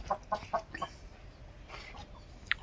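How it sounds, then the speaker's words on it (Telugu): A young Peruvian cross rooster chick of breeding quality gives a quick run of four soft clucks or peeps, then a single sharp call, faint against light background noise. "ఇది పుంజండి, బ్రీడింగ్ క్వాలిటీలో ఉన్న పెరుగు క్రాస్ పుంజు"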